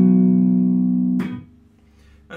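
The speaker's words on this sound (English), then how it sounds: "he does this kind of little slide down, which kind of finishes the introduction" Electric guitar with effects playing a short slide down to end the introduction of a song: one sustained, buzzy note ringing alone, then a quick scrape as the note drops away and fades.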